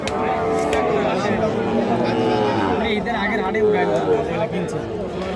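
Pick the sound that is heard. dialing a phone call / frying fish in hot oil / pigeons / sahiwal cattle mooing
sahiwal cattle mooing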